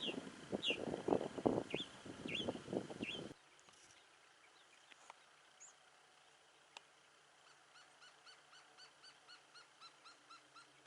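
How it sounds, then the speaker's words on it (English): A voice talks briefly, then a mockingbird sings a steady run of rapid, repeated chirpy notes at a moderate distance in the desert. "And there's a very chirpy mockingbird."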